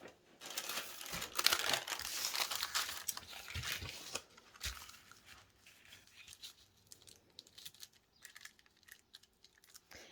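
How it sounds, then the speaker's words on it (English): Baking paper crackles and crinkles close by as it is handled and scrunched, a dense, continuous papery rustle that eases off to softer, intermittent crumpling, quiet and alone. "I'm going to grab my baking paper."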